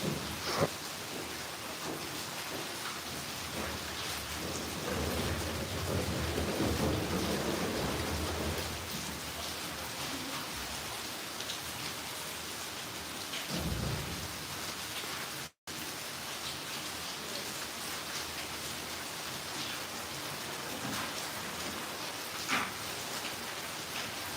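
Steady heavy rain pours down outdoors, a dense continuous hiss with a brief low rumble partway through, with no talking.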